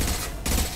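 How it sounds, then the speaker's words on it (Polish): A concussive shot and gunfire from the video game Mass Effect 2 make two short, harsh bursts separated by a brief gap, loud and close. "Strzał obalający."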